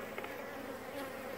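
Honeybees buzz at an opened beehive, a close, steady droning hum with slight swells as individual bees pass nearby, with no speech.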